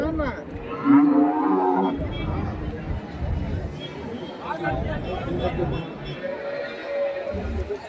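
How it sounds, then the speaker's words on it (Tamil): Calves and cattle moo at a rural cow market in Karimangalam, Dharmapuri district, with a couple of drawn-out lowing calls rising amid constant crowd chatter and nearby talking. "ஸோ வாங்கியிருக்கேன் குட்டி மாடு"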